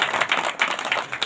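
A crowd at an outdoor rally of a Khalsa Fateh march in Raigarh, Chhattisgarh, claps loudly to welcome a speaker, dense rippling applause in surging bursts, with no voices over it.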